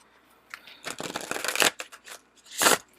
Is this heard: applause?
no